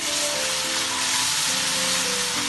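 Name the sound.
garlic ginger paste sizzling while frying with browned onions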